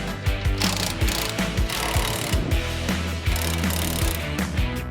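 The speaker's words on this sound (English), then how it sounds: "You just need your 9/16 socket and your handy dandy impact gun." An impact gun fitted with a 9/16 socket zips out the mower deck bolts on a Toro Multiforce, loud, close, rapid hammering bursts repeating in quick succession with no speech.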